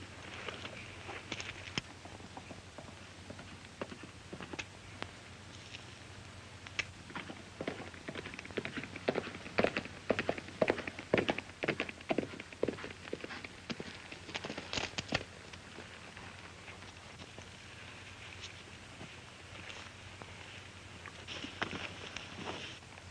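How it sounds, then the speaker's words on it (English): Irregular clip-clopping hoofbeats, faint at first and growing denser and louder toward the middle, with a steady low hum underneath. "I hear a horse coming."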